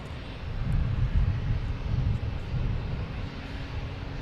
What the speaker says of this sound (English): Next takeoff's American Airlines and A321.